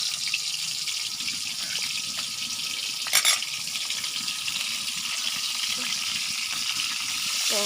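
Fish frying in hot oil for a home-cooked meal: a dense, even rushing sizzle fills the whole stretch, with a short sharp crackling burst partway through and a faint voice in the background.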